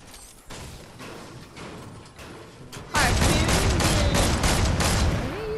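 Video game gunfire crackles in rapid bursts, light at first and then erupting into a dense, loud barrage of shots and booms partway through, without clear speech.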